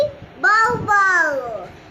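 A young child imitates a dog barking with two drawn-out, voiced woof-like calls, close and clear.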